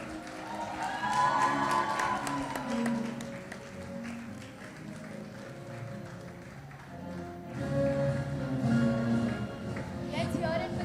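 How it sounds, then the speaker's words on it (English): A large audience cheering and applauding for a graduating batch at a college ceremony, a steady crowd roar with clapping that swells and dips, under an announcer's amplified voice. "Audience, please keep cheering for the batch of 2020."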